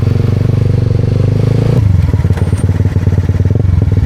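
Motorcycle engine running loud and close at a border crossing into Malaysia, steady droning note shifting down partway through, with rattling clatter and no talk over it.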